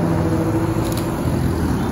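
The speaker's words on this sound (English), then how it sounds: "The naturally aspirated V12." An Aston Martin DBS with a naturally aspirated V12 gives a loud, steady engine roar, close and continuous for a couple of seconds amid street noise.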